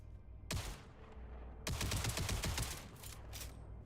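Infinite-ammo gun fired in the Jump Space video game: one sharp shot, then a rapid burst of close, loud rounds, followed by two fainter short bursts near the end.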